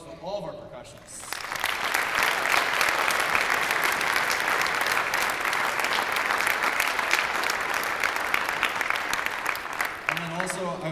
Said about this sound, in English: So can we have a round of applause for all of our percussionists?